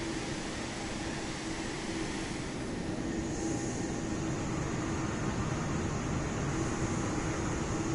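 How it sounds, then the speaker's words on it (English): A jet takes off in Microsoft Flight Simulator 2024, producing a steady, loud engine roar that holds evenly throughout with no talking. "There's a jet taking off."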